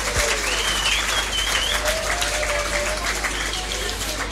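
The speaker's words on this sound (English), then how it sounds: "Let's have a big hand." Sustained applause from a live blues concert audience at Klook's Kleek club, a dense wash of clapping holding steady throughout, with some faint voices mixed in.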